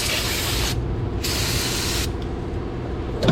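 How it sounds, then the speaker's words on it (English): A car battery being rinsed of cleaning foam and overspray with a water sprayer gives loud, close hissing in long continuous bursts separated by a brief pause, and no voices are heard. "let's rinse the rest of this off. especially the overspray."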